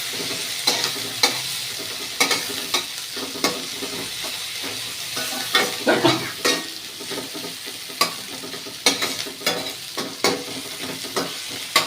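Chopped onion frying in a pan with garlic and nigella seeds, a steady close sizzle broken by frequent sharp scrapes and clicks as the spatula stirs, no voices.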